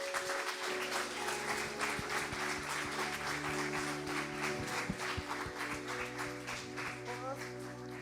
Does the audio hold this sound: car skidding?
no